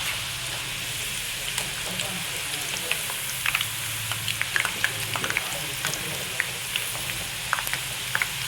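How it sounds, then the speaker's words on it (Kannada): Field beans frying in oil in a pan, a steady close sizzle with scattered crackles and pops continuing throughout. "ಆಯಿಲೊಳಗೆ ಚೆನ್ನಾಗಿ ಫ್ರೈ ಆಗಬೇಕು ಅದು ಕಾಳುಗಳೆಲ್ಲ."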